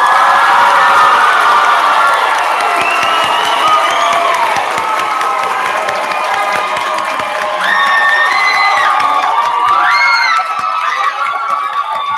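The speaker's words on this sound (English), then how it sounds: "if you will help me give a round of applause to our graduates" A crowd at a 2018 Tar River Academy commencement ceremony cheers and applauds the graduates, with loud sustained clapping, whoops and high shouts rising over it, filling the whole stretch at close range.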